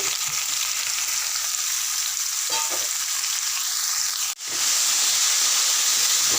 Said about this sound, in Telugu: మిరపకాయలు ఇలా వేగాక సొరకాయ ముక్కలు వేయాలి.